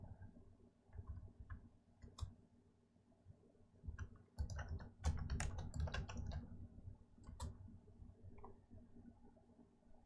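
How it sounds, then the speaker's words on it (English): A chess player bangs and hammers a computer keyboard in a burst of rapid, clattering key strikes, loudest in the middle, with quieter clicks and taps before and after. "Bortnik is... smashing his keyboard right now."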